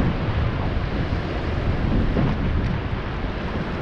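Strong wind buffets the microphone at the falls on the New River, roaring steadily and loudly for the whole span with rushing water mixed in beneath.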